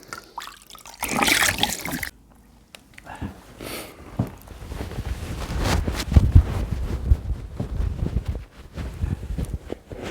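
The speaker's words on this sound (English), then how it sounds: "Now I'm going to use some clean water and a towel." Splashes and trickles of clean water as a face is rinsed after shaving with a safety razor, close and uneven, with a quiet pause and some wet rubbing and dripping afterward.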